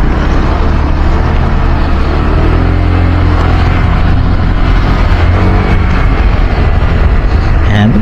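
A Samurai 155i motorcycle riding on the road, its engine droning steadily with strong wind rush across the microphone and a voice talking over it.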